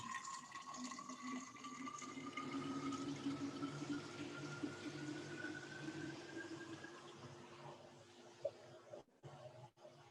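Liquid pours steadily into a Thermomix simmering basket, a continuous close splashing stream with a rising filling tone that runs for several seconds before tapering off.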